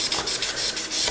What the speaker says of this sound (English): I like this way of making a matte finish just by sanding the top of it.